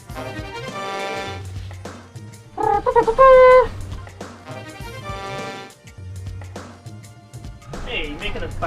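A voice imitates a Fire Emblem video game sound, a short bright warbling melodic vocal jingle rising and falling, set between casual conversation by several people.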